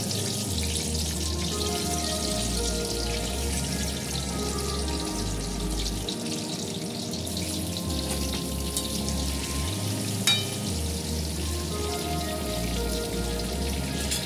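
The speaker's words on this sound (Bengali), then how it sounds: "এবার আমি এই তেলে আলুগুলো ছেড়ে দেবো। আলুগুলো আমি ভেজে নেব।" Potatoes frying in hot oil for a Bengali biryani, a steady crackling, rain-like sizzle that holds close and even throughout with a low hum beneath, no voices.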